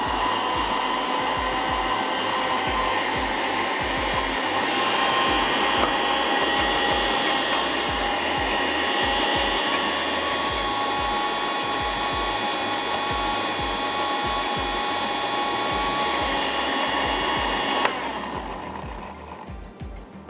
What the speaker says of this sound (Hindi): साथ ही ऐड कर देते हैं पानी, और करेंगे अच्छा सा ब्लेंड।